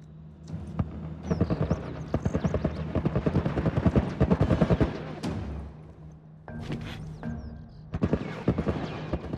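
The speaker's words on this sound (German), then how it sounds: "da wird immer noch fleißig geballert" Rapid bursts of gunfire in The Last of Us, sharp repeated shots in clustered volleys with brief pauses, fairly close and loud.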